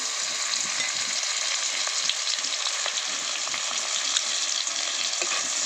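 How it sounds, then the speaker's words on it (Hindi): Garlic and green chili sizzle steadily in hot oil as a spice tempering for a mung dal and spinach dish, a dense, even crackle of frying close up with no pauses. "देखंतु मो रसुण कंचा लंका छेची देती देदबा।"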